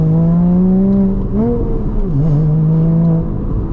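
A Porsche Boxster engine revs loudly from close range, a sustained strong drone that dips and climbs in pitch with a brief throttle change midway, dominating the whole stretch.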